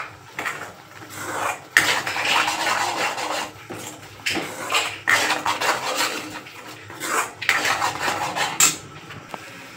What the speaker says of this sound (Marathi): हे आधी चांगलं असं परतून घ्यायचं